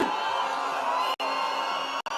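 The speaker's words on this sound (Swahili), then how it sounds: "Haya, mgeni wetu ameingia. Makofi, makofi." A large political rally crowd in Nakuru, Kenya cheers and whoops loudly and continuously as Ruto, Musalia Mudavadi and Wetangula make their entrance, with brief sharp drops in the noise.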